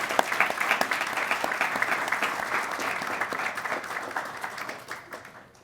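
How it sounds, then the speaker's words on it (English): An audience at a City Club youth forum applauds its panelists, lively clapping from many hands that swells early, holds steady, then tapers off toward the end. "round of applause for our panelists"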